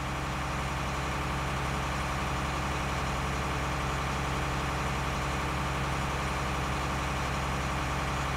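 Steady low tractor engine idling in Farming Simulator 19, with a constant heavy rumble and drone that holds unchanged throughout and no voices.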